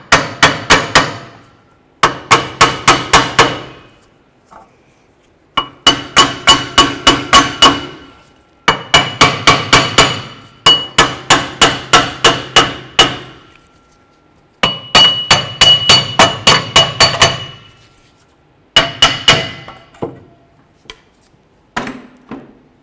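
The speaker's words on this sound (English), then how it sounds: "Using a hammer, you can go ahead and work your way around the outer flange here to get this hub to come out." A hammer strikes the outer flange of a rear wheel hub assembly on a 2012-2017 Toyota Camry, ringing out in rapid metallic bursts of several blows each, separated by short pauses, loud and close.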